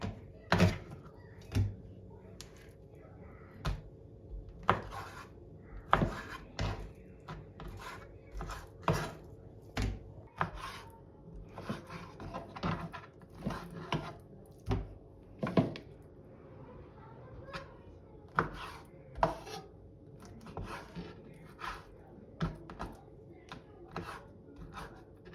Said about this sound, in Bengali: চিকেনটাকে এইভাবে কাটতে হবে, একটু লম্বা লম্বা, পাতলা পাতলা, চিকন চিকন হবে